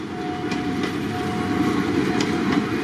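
A train rolls past close by on a curved track through a community near Bangkok, a continuous heavy rumble with faint rhythmic clacks of wheels over rail joints.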